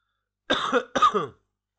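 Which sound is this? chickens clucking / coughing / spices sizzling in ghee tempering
coughing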